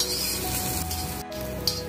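Steady sizzle of ingredients being sautéed in hot oil for a Malvani black pea sambara, with a faint clink of a utensil near the end and no voices.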